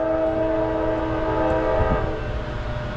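A Norfolk Southern eastbound Maxi-Stack freight train, hammered down on track one at Piscataway, New Jersey, sounds a loud sustained multi-tone horn chord over the deep rumble of the train rolling past close by.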